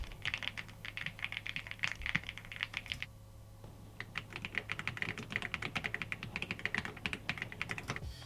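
Rapid clicking of a mechanical keyboard being typed on, steady and close, with a brief pause partway through.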